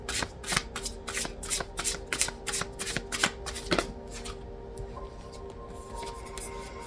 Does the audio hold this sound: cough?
no